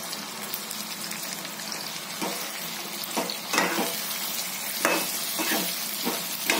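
Whole capsicum peppers are dropped one at a time into a hot pan of oil for masala shimla mirch, giving a steady close sizzle with brief louder hissing bursts as each one lands.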